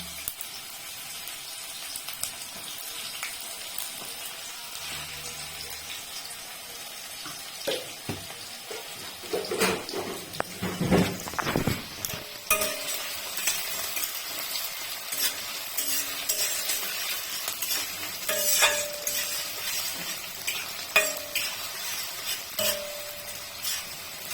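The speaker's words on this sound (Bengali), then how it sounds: "মিডিয়াম তাপে পেঁয়াজটাকে একটু হালকা করে ভাজতে হবে।" Onions fry over medium heat with black cumin and chopped green chili, giving a soft, continuous sizzle. Bursts of stirring and scraping come midway, followed by occasional light clinks against the pan.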